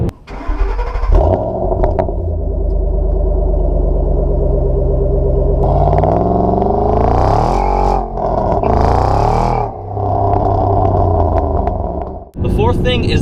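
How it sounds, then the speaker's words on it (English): A big supercharged American V8 engine cranks to life and idles with a deep rumble, then revs hard several times, a supercharger whine rising over the roar. "you got the supercharger whine, and it sounds like pure American V8."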